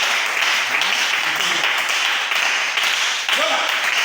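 Church congregation clapping and cheering in praise, a dense sustained wash of applause lasting throughout, loud and close with no clear speech on top.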